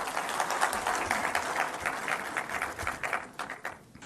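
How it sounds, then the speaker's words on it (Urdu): Audience applause at a political gathering with the Prime Minister of Pakistan, Shahbaz Sharif: dense, steady clapping from a crowd, loud and continuous, thinning slightly toward the end. "تالیاں بجا دیں جی"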